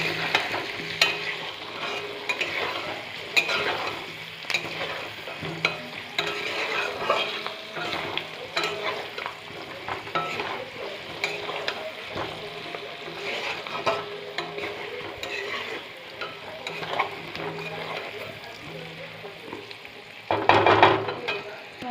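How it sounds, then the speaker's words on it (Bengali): Potatoes frying in a pan with two spoons of turmeric are stirred steadily, a spatula scraping and clicking over a continuous oily sizzle for the whole stretch, with a louder clatter near the end. "হলুদটা দিয়ে ভালো করে নাড়াচাড়া করবো।"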